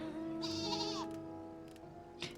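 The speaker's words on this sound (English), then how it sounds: "I gotta get on my sheep for this." Sheep mount in Final Fantasy XIV bleating in a few drawn-out, wavering calls over a steady game music bed, close and clear, with no talk.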